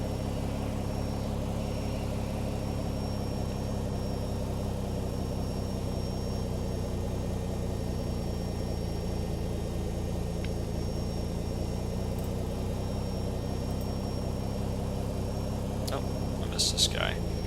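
Boeing 757 engine spooling up in the Flight Factor flight simulator game, a steady low rumble and drone that holds evenly throughout, with a brief higher burst near the end and faint talk beneath.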